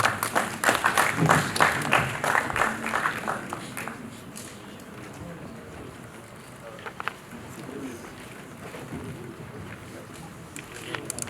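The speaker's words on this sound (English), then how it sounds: "Can we clap for him, please?" Applause from a conference audience at a youth day event, loud and dense clapping for the first four seconds, then fading into a quieter murmur of room noise with a few scattered claps.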